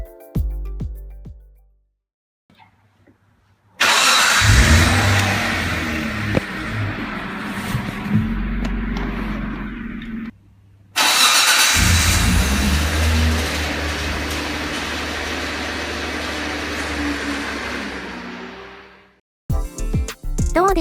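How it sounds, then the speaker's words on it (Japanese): A Mitsubishi FTO GPX V6 engine cranks and catches twice, each start settling into a steady idle that runs for several seconds before cutting off, recorded slightly muffled on a phone microphone. "当時録画していたエンジンの始動音がありますんで V6 の始動音を聞いてみてください"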